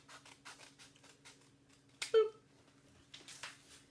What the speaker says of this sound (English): we're using scissors to go through the whole thing